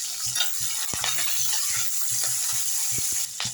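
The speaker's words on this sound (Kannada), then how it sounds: "ಇವಾಗ ಈರುಳ್ಳಿ, ಇವಾಗ ಚೆನ್ನಾಗಿ ಫ್ರೈ ಮಾಡೋಣ." Onion, tomato and dried red chili fry in a pan with a steady close sizzle, broken by repeated short clinks and scrapes of a utensil stirring against the metal, with no voices.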